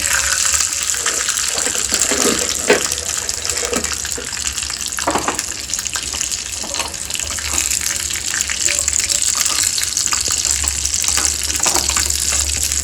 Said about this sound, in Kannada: ತುಪ್ಪದಲ್ಲಿ ಗೋಡಂಬಿನ ಹುರ್ಕೊತಾ ಇದ್ದೀನಲ್ಲ